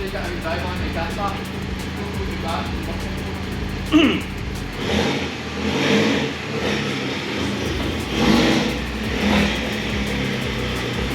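A track-prepared Mini's engine runs after a rebuild with new engine mounts, clutch, lightweight flywheel and Quaife diff, giving a steady idle with several revving swells close by in a workshop.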